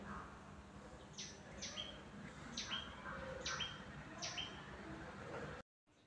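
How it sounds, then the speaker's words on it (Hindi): Small birds chirp in a series of short, bright calls outside a home balcony, about five distinct chirps spaced across several seconds over a steady background hum of outdoor ambience. "आप देख सकते हो जैसे ही चिड़िया की आवाज़ आई, ईसा ढूंढने लगा ये आवाज़ कहाँ से आ रही है।"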